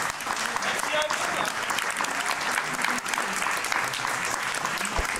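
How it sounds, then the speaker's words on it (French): An audience at a dance company performance in a care home claps in a dense, steady ovation, loud and continuous throughout, with a voice faintly audible beneath it. "vous pouvez les applaudir bien"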